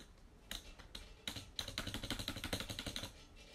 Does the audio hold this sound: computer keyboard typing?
yes